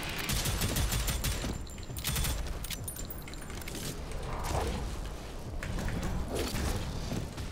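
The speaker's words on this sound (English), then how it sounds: "Three shots." Rapid gunfire in the video game Prodeus, dense bursts of shots with clanking mechanical weapon sounds running continuously over a loud, busy game mix.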